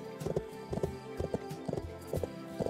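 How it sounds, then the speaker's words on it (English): Horse hooves clip-clop in the Bibi & Tina: Auf dem Martinshof video game, arriving in quick paired bursts of hoof falls at a steady rhythm, fairly close and moderately loud. "She could ride through him with her horse."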